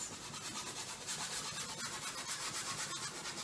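A hog hair bristle brush scrubs hard in quick, rhythmic back-and-forth strokes, a faint, close scratchy rubbing that repeats steadily throughout.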